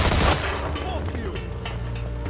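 Gunfire in the Mafia 2 Definitive Edition video game, a loud burst at the start followed by a dense, ongoing rattle of shots and booms under game sound.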